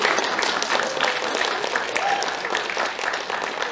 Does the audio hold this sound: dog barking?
no